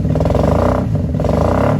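1994 Honda Magna motorcycle engine idling while warming up, a loud, close, lumpy throb with rapid rhythmic pulsing and a slight swell near the end, alone without speech.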